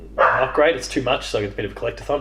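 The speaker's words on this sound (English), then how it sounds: "Excuse the dog." A dog barks and yips in short repeated bursts close by, sounding through and between two people's conversation.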